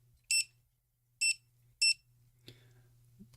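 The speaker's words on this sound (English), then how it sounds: "Set myself a little timer here." A 5-minute timer gives three short, sharp electronic beeps in a quiet room, followed by faint handling clicks.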